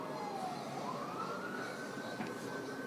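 An ambulance siren wails in the distance, a faint rising and falling tone heard steadily under background noise with no talk.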